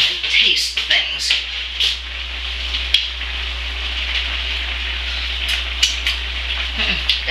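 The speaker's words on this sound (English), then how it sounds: "Gently stir it." Stroganoff gets stirred in a pan with a spoon, giving soft scraping and clinking of utensil against metal, with a light wet bubbling under a steady background hiss.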